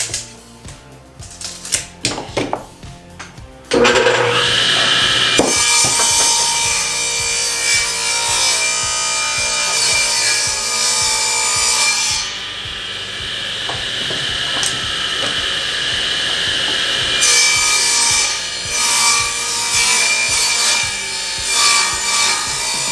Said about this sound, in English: Cutting 4 7/8 inch here.